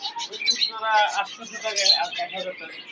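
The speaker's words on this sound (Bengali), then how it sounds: "ককা কবুতর খুব সুন্দর করে ডাকে" Koka pigeons calling at a busy outdoor pigeon market, soft cooing and chirpy bird calls close by, mixed with people talking throughout.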